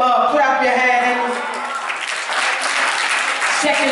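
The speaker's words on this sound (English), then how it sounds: "Clap your hands." A church congregation claps hands together, a dense burst of applause that swells in the middle while voices and music carry on underneath.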